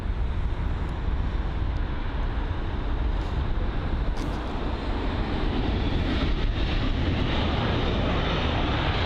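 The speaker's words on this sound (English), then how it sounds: "Next up, the A320, I think that is," A British Airways Airbus A320 at London Heathrow gives off a steady, broad jet engine roar that holds loud and unbroken throughout, with some wind buffeting against the microphone.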